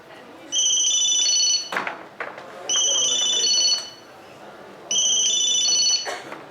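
A phone rings for an urgent call with three bursts of an electronic trilling ringtone separated by short pauses, and voices speak faintly between the rings.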